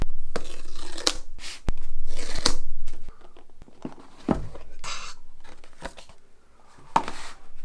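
Paper wrapping is torn off an iPad mini box by hand in a series of sharp close rips and crinkles with brief pauses between pulls, no talking.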